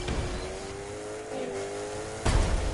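An electric hypercar drives in The Crew 2 racing game, a steady synthetic motor whine rising and falling in pitch before a sudden louder burst of road noise near the end.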